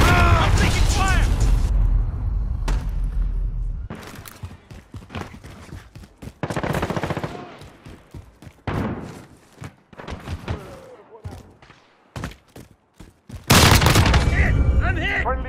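Gunfire and explosions from the shooter game Modern Warfare 2019 come in loud, irregular bursts of shots and booms, mixed with mechanical clatter and game voice callouts.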